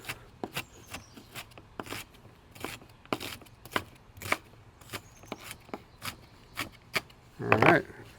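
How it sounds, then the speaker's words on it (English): A knife chops fresh shallots on a cutting board in a kitchen while smoked beef short ribs are being prepared. About a dozen sharp, evenly spaced chops sound close, with a louder cluster of scraping cuts near the end. "chop this up"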